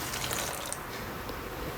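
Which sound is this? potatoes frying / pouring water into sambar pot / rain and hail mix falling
pouring water into sambar pot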